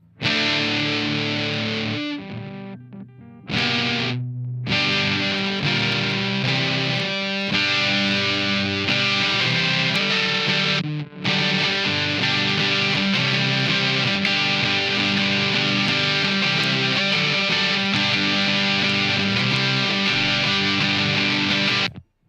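Electric guitar played through a Big Muff 2 fuzz pedal, thick sustained distorted chords and notes ringing loud and continuous, with two brief gaps where the playing cuts out.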